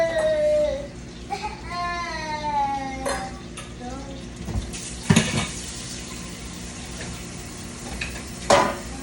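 Eggs frying in melted butter in a breakfast pan, a steady low sizzle and stirring running underneath, with clattering utensil knocks and a few brief vocal sounds cutting through.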